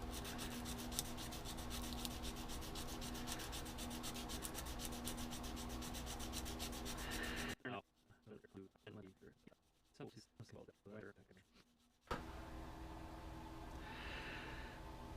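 A cane double reed is sanded with long, steady rasping strokes that stop partway for a quieter stretch of small scratches and handling, then resume; close and continuous, with no speech.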